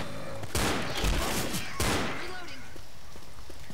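Teammates fire guns in the zombie game Left 4 Dead, in the sewers level of No Mercy. Two loud, close volleys of rapid shots ring out about a second apart, then the sound fades into a quieter game background.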